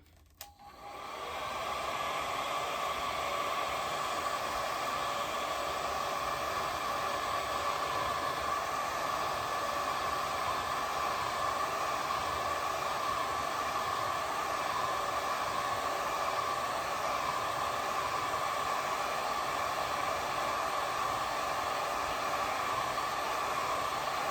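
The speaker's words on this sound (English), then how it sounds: "I'm going to use my hair dryer now" A hair dryer drying watercolor paint on wooden hearts switches on and blows continuously with a steady whooshing hiss and a high whine, holding constant at close range for the whole stretch.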